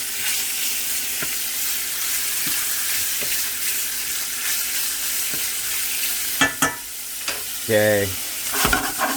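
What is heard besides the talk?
bacon frying in a pan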